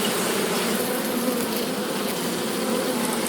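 A dense swarm of honeybees from a fallen hive that has been opened, droning in a steady loud buzz that fills the air close by without a break.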